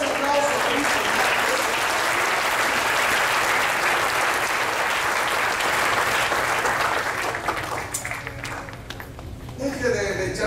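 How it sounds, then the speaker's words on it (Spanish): A church congregation breaks into long, loud, continuous applause that fills the room for several seconds before tapering off as a voice returns. "Denle ese aplauso a Cristo"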